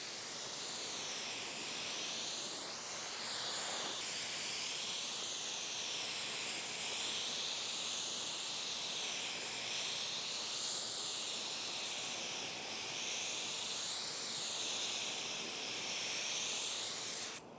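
A spray gun lays a primer coat onto a car body, a steady airy hiss with rhythmic swells as each pass sweeps back and forth, close and continuous with no talk.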